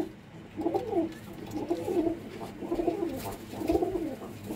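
A female pigeon cooing close by, a repeated series of soft, throaty rolling coos in a steady rhythm, with no talking.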